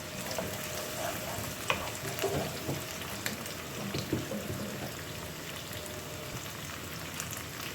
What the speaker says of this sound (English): keep stirring it so it's well mixed with oil and fried.